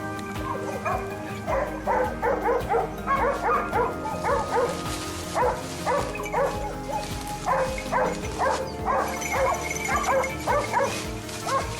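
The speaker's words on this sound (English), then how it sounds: "the barking of our hounds erupted from the base of the mountain." A pack of hunting hounds barks and yips continuously during a wild boar hunt, overlapping excited voices in quick repeated bursts, loud and fairly close, with some whimpering mixed in.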